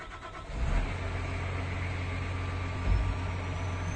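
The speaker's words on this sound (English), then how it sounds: "Startup sounds actually pretty cool. They've got the turbo spooling up there." A video game feller buncher's heavy engine rumbles steadily at close range, with a brief turbo-spooling surge in the low drone partway through, like a big diesel settling after startup.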